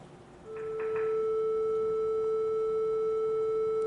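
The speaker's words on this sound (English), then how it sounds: "A triangle wave it looks kind of like a sinusoid" A steady analog synthesizer triangle-wave tone starts about half a second in and holds loud and unchanging to the end, with a few brief soft blips near its start.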